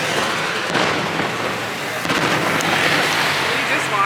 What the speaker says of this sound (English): We're just watching the fireworks.